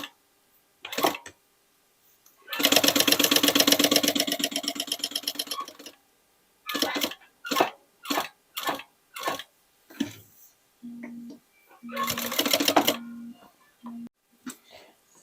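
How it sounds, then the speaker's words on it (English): Sewing machine stitching old denim jeans with bright blue thread, heard in short bursts of fast needle chatter between pauses, with a longer run early on, while a person talks over parts of it. "Now let's start to stitch, and I will use a bright blue color."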